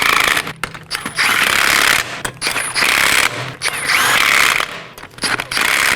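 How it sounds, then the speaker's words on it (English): A ratchet snugs down 19mm lug nuts on a Chevrolet Equinox rear wheel during an inner axle seal job, giving several bursts of rapid metallic clicking separated by short pauses, close and fairly loud. "Now I'm going to snug these down in a crisscross pattern."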